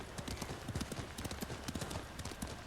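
Steady horse hooves clip-clopping in the Ghost of Tsushima video game, a quick, continuous rhythmic trot of many hoofbeats heard close and clear without talk.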